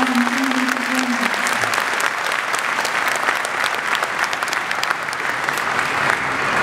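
An audience at an Eid al-Fitr gathering claps in a steady, dense round of applause, with a voice briefly heard over the start.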